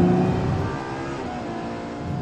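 A Ferrari 812 Superfast's 6.5-litre V12 engine drones loudly and steadily, its pitch shifting slightly as it revs, close and continuous.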